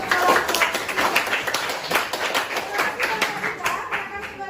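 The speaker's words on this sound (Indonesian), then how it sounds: "tepuk tangan untuk kelompok" Classroom clapping for a student group after a performance, a scattered, uneven patter of hands with a few sharper claps, fairly close and moderately loud, with voices talking beneath.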